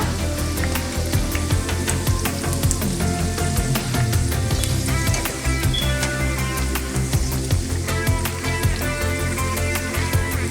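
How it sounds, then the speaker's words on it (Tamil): Chicken 65 deep-fries in hot oil, a dense, constant crackle and sizzle full of tiny pops that carries on evenly without a break, with no voices over it. "நம்ம அந்த சிக்கனை பொரிச்சு எடுத்து வச்சிட்டோம்ல"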